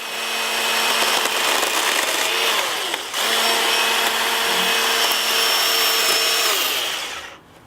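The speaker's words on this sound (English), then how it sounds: "All the features of a larger petrol driven chainsaw" A battery-powered lithium-ion garden chainsaw runs at a steady high whine while cutting, dipping briefly partway through, then winding down at the end; loud and close, with no talk.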